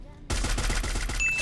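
After a brief quiet moment, rapid automatic gunfire in a video game erupts and continues in a fast, sharp burst of shots, loud and close.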